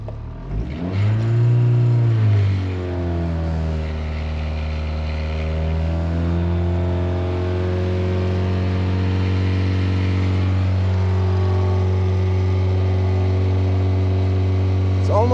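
Engine held at a steady rev of about 3000 rpm during an oil pressure check with an oil filter swap, rising briefly at the start then droning evenly and loudly throughout.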